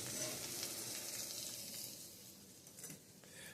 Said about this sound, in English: There go the beef patties.